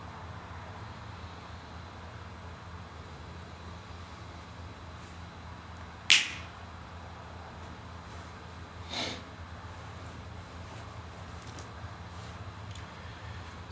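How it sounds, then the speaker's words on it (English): A single sharp finger snap stands out clearly against quiet room hiss, followed a few seconds later by a softer secondary click; no one speaks. "when I snap my fingers"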